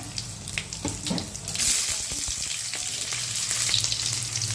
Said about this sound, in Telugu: తాలింపు వేసి నూనె వేడైంది, ఆవాలు వేస్తున్నా